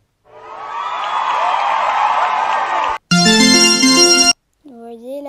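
Applause sound effect from the CapCut editing app: about three seconds of dense clapping and crowd noise, cut off sharply and followed by a bright tonal jingle, then a brief voice.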